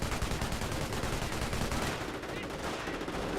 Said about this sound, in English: That might be an actual barrage there.